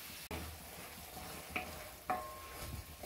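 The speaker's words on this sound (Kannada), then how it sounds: "ಇದನ್ನ ನಾವು ಮೀಡಿಯಂ ಫ್ಲೇಮ್ ಇಟ್ಕೊಂಡು ಚೆನ್ನಾಗಿ ಫ್ರೈ ಮಾಡ್ಕೋಬೇಕು" Chopped tomatoes fry in a pan over a medium flame, with a soft steady sizzle and a few light knocks of a spoon stirring them.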